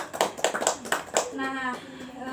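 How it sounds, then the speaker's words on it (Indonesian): A small group of students in a classroom counselling session claps for a classmate's answer, several brisk separate claps for about a second before a voice speaks over the fading end. "Beri tepuk tangan dulu biar oke."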